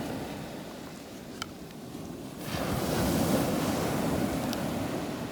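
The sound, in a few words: ocean waves breaking on the shore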